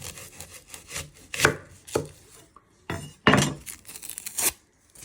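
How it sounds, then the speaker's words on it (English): A knife chops the end off an onion on a board, a series of irregular close thunks and scraping cuts, some sharper and louder than others, with brief pauses between strokes. "So next step, we're going to prep our onion. You're first going to chop your end off."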